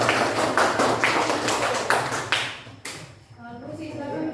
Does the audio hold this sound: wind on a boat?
no